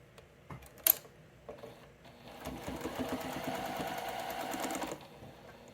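A sewing machine stitches pieces of a quilt block, running in one continuous whirring burst of about three seconds after a few soft clicks and handling taps.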